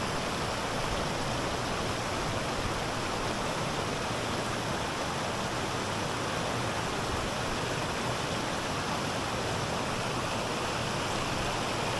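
A mountain stream in the Retezat range of Romania rushes steadily along a hiking trail, a close, even wash of flowing water that fills the whole stretch without pause and with no voices.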